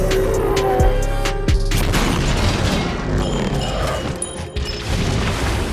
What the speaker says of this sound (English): The approaching spaceship was instantly destroyed, falling straight into the center of the town.